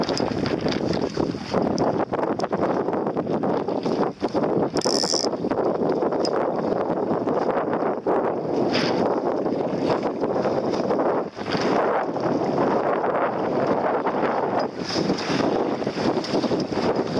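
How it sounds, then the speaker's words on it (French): Steady wind roars across the microphone while sailing an Optimist dinghy, with faint sloshing and creaking underneath. "il y a un petit peu plus de vent"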